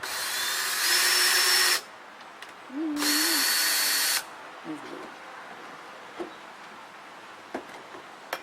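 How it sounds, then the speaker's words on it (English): A power drill drives screws into replacement deck boards, two sustained whirring bursts of about a second each, loud and near, followed by quieter clicks and handling noises. "I just want to hold this down with the single screw. I'll drill the rest of them."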